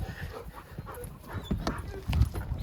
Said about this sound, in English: Oh, look at all the doggies.